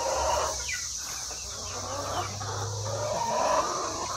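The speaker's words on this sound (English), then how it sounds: "I didn't know the baby chickens were still out." Soft, repeated clucking and peeping from small chickens nearby, over a constant background hum and faint insect-like whine.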